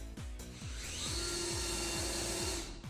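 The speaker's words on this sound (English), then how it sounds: "I then attached the bulkhead to the frame with screws." A power tool drives screws into a boat bulkhead fixed to a frame on a construction board, with a steady whirring motor and rhythmic repeated clicks of the clutch, fairly quiet and close.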